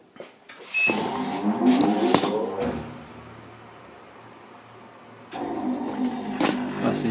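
A tyre shop wheel balancer spinning the rear wheel of a 2020 Suzuki GSX-S 750. There is a whirring mechanical hum that rises as it runs up, cuts off, and then starts again with a second spin after a few seconds of quiet.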